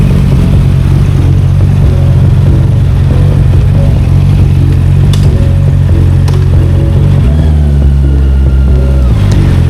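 A Honda CBR650R rides home after a flat tyre fix, its loud engine droning steadily up close with wind roar, then a brief shift in pitch near the end.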